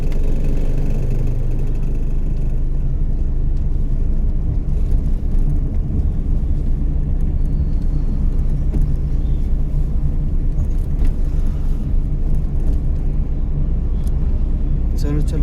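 A car engine hums and revs steadily from inside the cabin during a driving lesson, a continuous low rumble with subtle rises in pitch; an instructor's voice talks over it at times.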